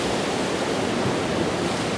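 Sea waves wash along a rocky coastline, a steady, dense, hissing roar of surf with no distinct breaks and no voices.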